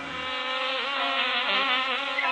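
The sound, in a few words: bees buzzing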